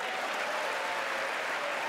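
Steady, dense applause fills a large hall during a State of the Union address, a continuous clapping roar at even loudness with no pauses.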